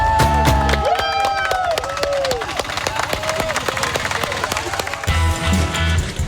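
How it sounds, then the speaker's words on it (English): A crowd applauds and cheers for the Black Squadron team at a game-show challenge in India, with dense, steady clapping and shouts rising over tonal background sounds across the whole stretch. "Give them a round of applause!"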